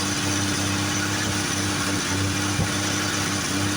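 An abandoned 1978 Dodge short box truck engine with a poorly running carburetor idles on its own, a steady low rumble throughout with no talk.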